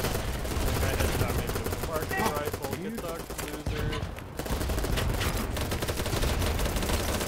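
Dense, loud gunfire in the video game Battlebit Remastered: a nonstop fusillade of overlapping rifle and machine-gun bursts that briefly thins, then returns at full intensity.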